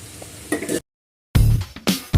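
Bitter gourd curry with tomato, salt and turmeric cooks in a pan, producing short bursts of close sizzling and stirring broken by a brief silence.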